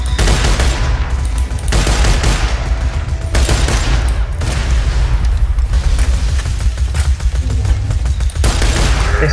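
Rapid bursts of gunfire in the co-op shooter Borderlands 2 during a fight against a crystalisk, loud and continuous with booming hits and brief pauses between volleys, no talk over it.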